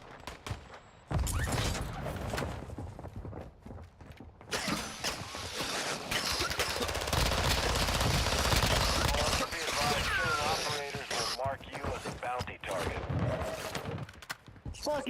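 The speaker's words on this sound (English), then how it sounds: "we're getting shots from behind" Gunfire from behind in Call of Duty DMZ: dense bursts of shots and clattering combat noise run through most of the stretch, loud and continuous, with a voice speaking over parts of it.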